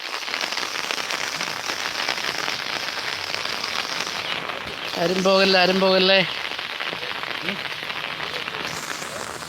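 Rain patters steadily on surfaces throughout at a riverside fishing spot in Puthuppally, Kottayam, while a voice briefly calls out over the downpour in the middle.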